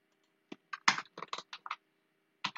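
Product code keyed into retail shop software on a computer keyboard: a short burst of close, distinct key clicks, a pause, then one final keypress.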